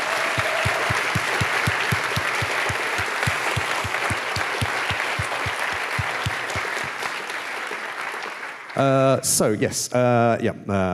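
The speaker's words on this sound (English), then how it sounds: "So I think there should be a round of applause for the people who've been running all this." Sustained audience applause fills a university game-lab final presentation event for several seconds with some steady rhythmic clapping, then a short burst of musical tones and synthetic sounds takes over near the end.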